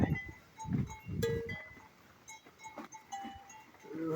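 Cattle on a farm make low lowing and grunting sounds mixed with livestock noises. Faint clonking like a bell comes through at a moderate distance against quiet outdoor surroundings.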